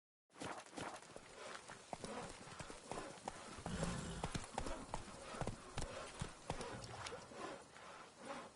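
Roach, the horse in The Witcher game, gallops with a steady, close run of hoof beats that clatter on for several seconds, a faint voice mixed underneath.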